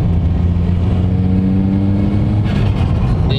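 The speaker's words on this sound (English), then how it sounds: "There's like three main sounds of this car. You got turbo spooling, the exhaust," Loud, steady engine drone of a 2002 Nissan Silvia 200SX with turbo spooling and a deep exhaust note, rising in pitch as the engine revs and whirs up.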